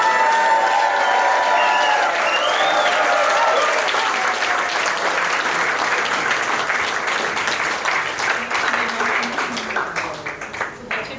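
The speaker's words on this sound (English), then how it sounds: "Everyone give a big cheer to Grażyna who's watching live." Wedding reception guests clap and cheer together, a loud, steady burst of applause with whoops and voices at the start that thins into scattered clapping toward the end.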